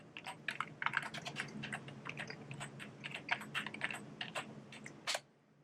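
Rapid keystrokes on a computer keyboard as a password is entered on an HP thin client, a steady close run of clicks for about five seconds ending with one sharper tap, no voices.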